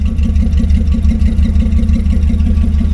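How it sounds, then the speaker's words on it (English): A Plymouth Valiant A-body car engine idles steadily with a deep, throaty rumble from a true dual exhaust, loud and close, with a constant low pulsing throughout. "Exhaust sounds fine, looks good."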